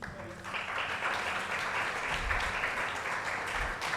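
An audience at an awards open mic event applauding steadily throughout, a dense wash of clapping from a crowd with no break.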